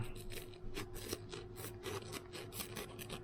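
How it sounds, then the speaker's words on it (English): A hand tool cuts and rasps into the corner of material while a hard-case kit is being made, producing repeated short scraping strokes in a quiet, close setting. "I'll just come along here, cut into the corner"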